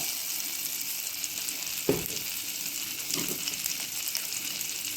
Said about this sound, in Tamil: சூடானதும் அது கூட பட்டர் ஆட் பண்ணிக்கிங்க அது கூட கொஞ்சம் போது சீரகம்